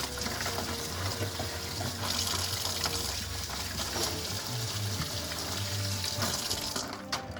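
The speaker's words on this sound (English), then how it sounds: "Wash our hands." Hands washed under a running kitchen tap mid-way through sourdough bread making, a steady close rush of water splashing into the sink that runs evenly throughout and cuts off near the end.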